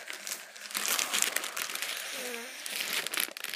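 Mystery box packaging is cut open, giving close crinkling and crumpling plastic noises in bursts, fairly quiet, with no clear talk.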